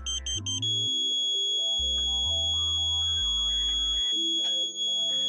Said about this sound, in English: Very slowly until you hear the continuous tone.